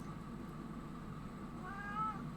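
A cat in the video game Disco Elysium gives a soft, drawn-out meow near the end, faint against a steady background hum.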